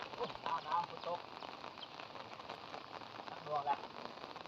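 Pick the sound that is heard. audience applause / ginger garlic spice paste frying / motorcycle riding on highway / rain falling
rain falling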